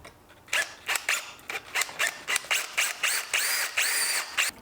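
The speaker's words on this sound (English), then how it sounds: "we need to drill a hole so we can feed the one end of the wire strands" A power drill bores a hole in a homemade wire-wound energy device, running in short, repeated whirring bursts about a dozen times, close and fairly quiet.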